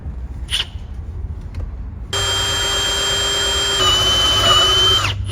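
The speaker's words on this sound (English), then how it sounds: "we're going to drill and flush mount this" A power drill whirs steadily for about three seconds as it bores into the center console of a Toyota Avalon during a radio install, loud and close, with a slight pitch shift near the end.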